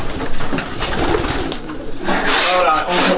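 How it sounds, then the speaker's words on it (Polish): Racing pigeons cooing and fluttering at a loft before a 340 km race, a dense, busy flock sound with wingbeats and calls, fairly close and steady throughout. "Gołębie czekają"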